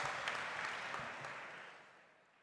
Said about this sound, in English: welcome with a big round of applause